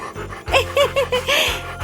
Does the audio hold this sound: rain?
no